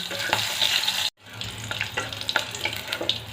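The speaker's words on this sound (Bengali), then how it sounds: "পাঁচ ফোড়ন ভাজার একটা সুন্দর গন্ধ এসে গেছে" Panch phoron whole spices crackle and sizzle in hot oil, a dense continuous frying hiss with a momentary break partway through.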